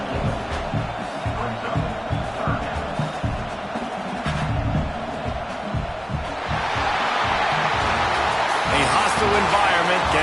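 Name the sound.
home crowd cheering at a college football game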